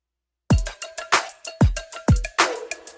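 Punchy drum loop for a hard-hitting boy-group track, run through a drum bus processing chain: deep kicks and sharp snare hits land in a tight, loud rhythm right after a short silence.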